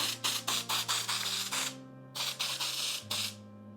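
An aerosol spray can hissing in a series of short bursts indoors with air conditioning on, quick rhythmic puffs followed by a pause and three more, set against a steady low hum of the room.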